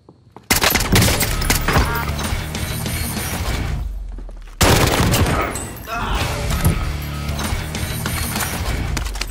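Dense gunfire in Call of Duty Warzone fills the clip: sustained automatic bursts with heavy booms, broken by one short lull, loud and continuous throughout.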